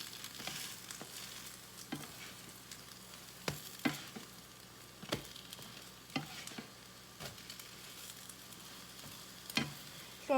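French toast cooks low and slow in a pan, a quiet steady sizzle broken by scattered soft ticks and pops, close and alone with no talking.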